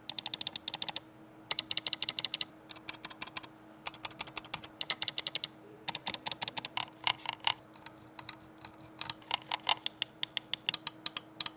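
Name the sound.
computer mouse clicking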